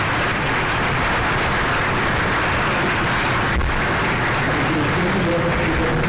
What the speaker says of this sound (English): would ask you for a round of applause for him